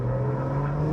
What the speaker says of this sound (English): when you let off on the exhaust behind, you can kind of hear the turbo resonating through the pipes all the way to the back